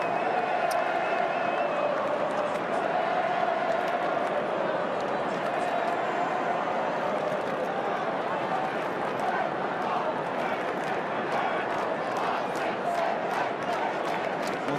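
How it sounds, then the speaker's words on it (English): A boisterous, packed AFL crowd at a Collingwood Magpies versus Richmond Tigers night match in 2016 roars continuously and loudly, a dense wall of cheering and shouting that goes on under a commentator's voice. "Terrific crowd, boisterous crowd"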